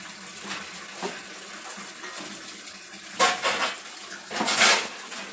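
Dishes and utensils being washed by hand: soft clinks of metal pots and cutlery with a low watery background, then two louder clattering bursts of scrubbing and clanking near the end, fairly close and without talk.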